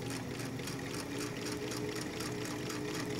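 A sewing machine fitted with a zipper foot stitches a fly-front zipper on a pair of pants, giving a steady, fast, even whir with a faint regular pulse, close and continuous.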